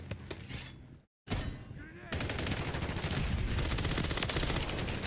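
Gunfire in an XDefiant multiplayer match: a dense, sustained barrage of rapid shots after a short gap, loud and close, with voices mixed in.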